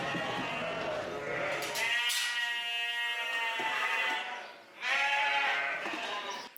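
Sheep and lambs on a farm bleat in loud, close, drawn-out calls, one long cry followed by a second after a short pause.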